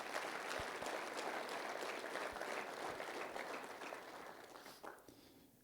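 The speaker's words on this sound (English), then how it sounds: "If we can give a round of applause for all of the award winners" A room of golf professionals claps for the award winners at the Georgia PGA annual meeting. The clapping is full and steady at first, then slowly thins and fades toward the end, with a few separate claps left at the close.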